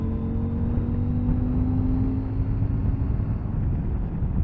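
A CF Moto 800MT motorcycle engine holds a smooth, steady high-rev drone at around 6,500 rpm while touring, with a continuous hum and rushing wind, no talking.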